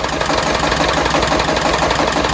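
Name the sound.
Shifeng SF 160 / Bulat tractor engine idling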